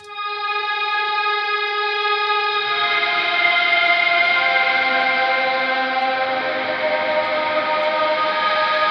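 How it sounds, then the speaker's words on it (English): A sustained synth chord drenched in wet reverb with amp distortion, smearing into a dense, echoey wash that swells after a few seconds and holds at a steady loud level. "this is just going to be a reverb, really, essentially, but with some distortion added from the amp as well"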